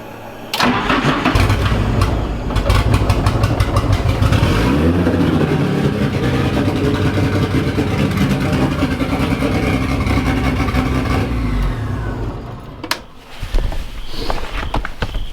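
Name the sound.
Nissan 240sx SR20 engine starting and running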